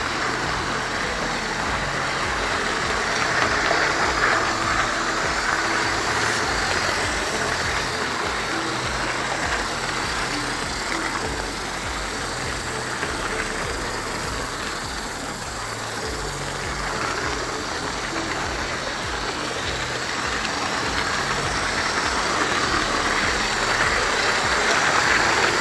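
A Lima model train locomotive running laps on a layout, its motor giving a steady, loud mechanical whine and rumble with rail rattle that stays constant throughout, close with no talking.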